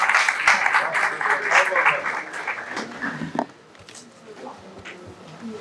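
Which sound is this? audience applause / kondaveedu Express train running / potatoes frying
audience applause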